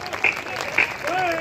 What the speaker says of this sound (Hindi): एक बार ताली बजा दीजिए जोरदार।